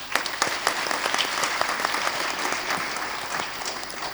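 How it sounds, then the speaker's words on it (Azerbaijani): Audience applause at a Mugham music concert held for World Hemophilia Day: dense, steady clapping from many hands fills the whole stretch, close and fairly loud, with no talking over it. "hamılıqla özümüzü alqışlayaq"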